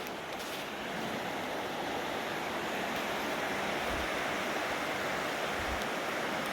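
Ritter Creek flowing steadily, a continuous broadband rush of moving water heard from nearby, even and unbroken throughout with only faint low thumps now and then.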